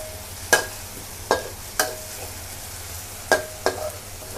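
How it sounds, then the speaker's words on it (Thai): Chili and garlic stir-fried in a pan over medium heat, a soft steady sizzle broken by five sharp scraping strokes of the spatula at uneven intervals, close and fairly quiet, with no voices. "ผัดให้พริกมันเหลืองกระเทียมเหลืองนะคะ"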